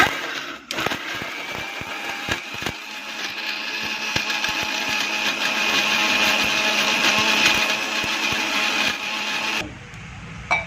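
A blender grinds coconut into paste for a Bangladeshi home-cooked dish, a loud, steady whirring motor with rattling chunks running for about nine seconds before cutting off, followed by a brief quieter pause.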